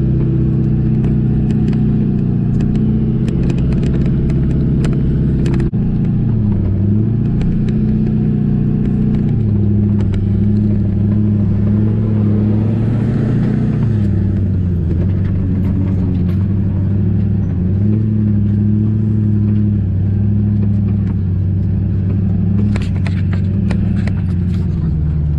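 A dumpster rental truck's engine rumbles loudly and revs in four-wheel drive while digging through deep ruts, with the engine pitch dropping and rising over a long, steady drone.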